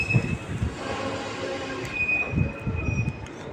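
A Kochuveli Express passenger train rolling into platform five at Mysore Junction, with a steady rumble, a sustained metallic wheel squeal and soft clacking of wagons, heard up close without talk.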